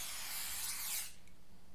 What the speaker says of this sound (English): I hope this is just rat deterrent and not like rat killing spray